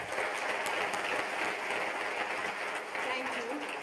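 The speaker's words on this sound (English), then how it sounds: "please, a big, big round of applause" An audience at a fireside conversation between two speakers at ISB applauds in a dense, steady wash of clapping that holds for several seconds, with a voice faintly mixed in.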